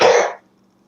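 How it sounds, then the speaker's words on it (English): A single harsh cough from someone getting over a cold bursts out close up, then quickly fades into near silence. "I apologize for the coughing."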